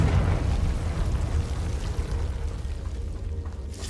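A Confringo blasting spell going off in the wizarding game Hogwarts Legacy, a low rumbling burst that swells at the start and slowly fades with a gritty, crackling tail, loud and close with no voices.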